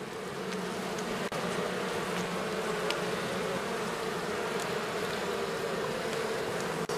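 A thick, unbroken buzz of many honeybees fills the air close by at a hive stocked with goldenrod, holding steady throughout.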